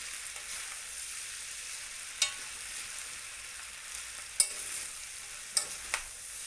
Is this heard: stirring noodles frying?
yes